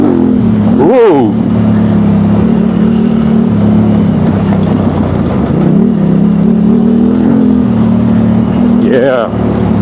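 Yamaha Tenere motorcycle engine on a Yorkshire trail ride, a loud, steady droning rumble close up with a few quick rev changes and wind buffeting throughout.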